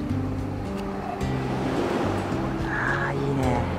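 Ocean waves wash steadily along the seaside near a hot-spring town, a continuous broadband surf rush with a low rumble underneath, while a person speaks over it.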